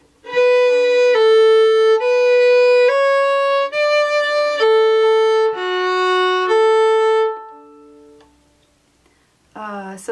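A fiddle plays a phrase of the Irish tune Drowsy Maggie, about eight clear bowed notes in steady rhythm, close and bright, followed by a short pause and a brief sound at the end.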